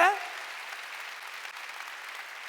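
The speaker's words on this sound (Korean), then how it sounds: "박수 치려면 세게 치라니까 하나님께" A church congregation applauds during a Wednesday worship service, steady broadband clapping that opens with a brief vocal tone and then holds evenly for the whole stretch.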